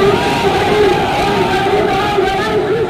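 A large crowd roars and chants at Amit Shah's road show in Nandigram during the West Bengal election, a dense, loud, unbroken wall of voices filling the space.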